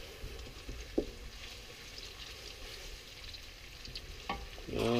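Vermicelli noodles with prawns and beef are stir-fried in a hot pan, giving a continuous soft sizzle with occasional scraping stirs and clinks, growing louder and crackling harder near the end.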